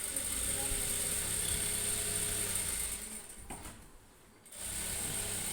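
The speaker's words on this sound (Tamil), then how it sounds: "இந்த கைடு அளவுக்கு கேப்பு விட்டு ஒரு தையல் போட்டுக்கோங்க" A sewing machine stitching an embroidered blouse runs in a steady continuous whir, close and moderately loud, briefly stopping before starting again.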